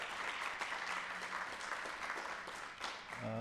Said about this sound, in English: Can we give Ms. Lintle Koza another round of applause, please?